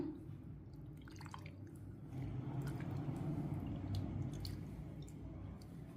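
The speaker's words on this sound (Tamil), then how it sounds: "நல்லா தக்காளியை கரைச்சி எடுத்துக்கோங்க" Soft, wet squishing and dripping as tomatoes are mashed by hand in water for rasam, steady and close, with a low background hum throughout.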